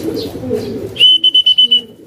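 A pigeon gives a rapid series of about six short, clear coos in quick rhythm, close and loud, right after a moment of soft outdoor background noise.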